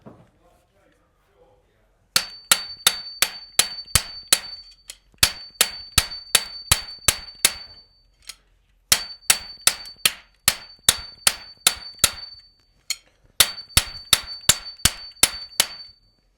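Repeated metallic hammer blows ring out in four quick bursts of about ten strikes each while a socket is formed in the end of chrome-plated pipe, each clang carrying a bright sustained ring with short pauses between runs.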